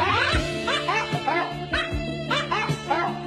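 A pointer dog barks and yips repeatedly in short bursts, close and fairly loud, with some whimpering tones between barks in a home setting.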